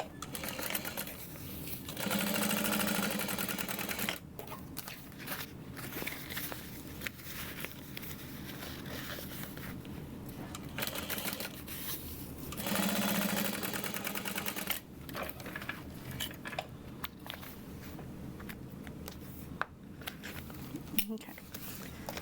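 Sewing machine top-stitching the bottom of a bubble bag, with two sustained runs of steady mechanical whirring between quieter handling sounds, heard nearby.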